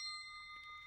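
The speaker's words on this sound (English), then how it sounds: "when you hear the bell sound" A meditation bell rings with a steady, sustained tone, its pure overtones hanging quietly and evenly through the moment with no voice over it.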